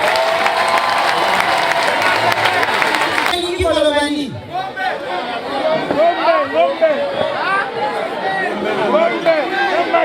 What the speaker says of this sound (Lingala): Est-ce qu'on peut d'abord l'applaudir?